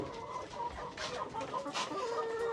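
Mardi chickens cluck and murmur close by, several birds overlapping in soft, uneven calls with no talking.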